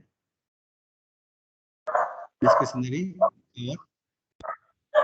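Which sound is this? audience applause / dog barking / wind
dog barking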